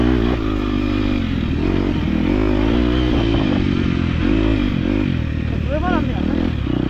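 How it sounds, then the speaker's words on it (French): A motocross motorcycle's engine labours loudly and continuously through mud in bad conditions, with a low, steady drone, some clattering and scraping, and a brief rising rev near the end. "le seul moment où j'ai ouvert les gaz sur cette putain de moto"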